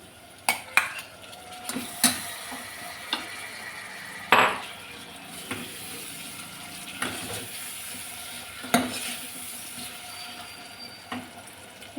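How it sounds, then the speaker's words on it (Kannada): Tomato frying in oil for a chickpea gravy, quiet sizzling under repeated sharp clinks and scrapes of a utensil stirring against the pan, irregularly spaced. "ಟೊಮೆಟೊ ಇಷ್ಟೂ ಎಣ್ಣೆನಲ್ಲೇ ಚೆನ್ನಾಗಿ ಫ್ರೈ ಆಗಬೇಕು ಸ್ಮ್ಯಾಶ್ ಆಗಬೇಕು"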